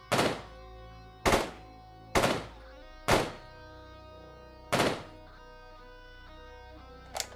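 Gunfire striking cover in the video game Quasimorph, five sharp, loud impact shots at uneven intervals, each ringing and decaying, with a faint sixth at the end; no voices.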